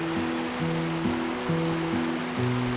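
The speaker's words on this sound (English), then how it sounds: "I found myself a spot next to a babbling brook" A babbling mountain brook flows steadily beside an outdoor picnic spot, its constant close rushing wash carrying through, with faint tonal steps layered over it and no one speaking.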